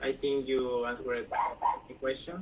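A pet dog barks and yips indoors at home in short bursts, heard under a person speaking during a live online English lesson.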